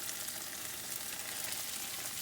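Garlic Parmesan butter sizzles in a hot pan used for searing scallops, a steady, dense crackle that holds evenly throughout with no voices over it.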